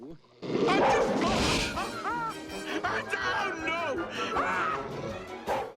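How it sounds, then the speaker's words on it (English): A cartoon dog in an animated Don Bluth–style film barks and yips during a frantic chase, with crashes, chattering voices and music layered densely over several seconds. "he's nearly eaten by the standard issue Don Bluth dog"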